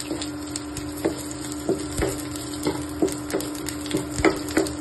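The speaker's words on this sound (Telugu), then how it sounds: "ఇలాగా ఒక 20 seconds ఫ్రై చేసుకున్న తర్వాత వెంటనే వెల్లుల్లిపాయలు వేసుకోండి" Smashed garlic cloves dropped into hot oil in a frying pan while cooking Andhra-style mango dal, a steady sizzle with irregular scraping stirs and taps, close up and alone without speech.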